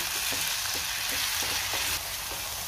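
Byadgi chilli powder, garam masala and black chilli powder sizzle steadily in a hot pan as a spoon stirs them, giving a constant close hiss broken by soft, regular scraping taps.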